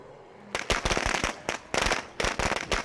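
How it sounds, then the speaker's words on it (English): Firecrackers burst in State of Decay 2, a rapid crackling string of sharp pops in several clustered volleys with brief gaps between them, loud and close. "This is also why I brought a ton of firecrackers"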